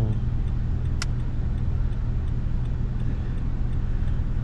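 A car at an auto auction runs in first gear with a steady, low engine drone throughout and one sharp tick partway through; no speech.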